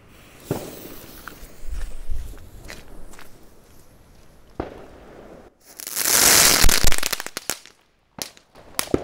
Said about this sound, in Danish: Test af spansk knald fra AFAC